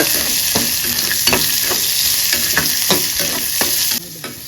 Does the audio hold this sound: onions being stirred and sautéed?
yes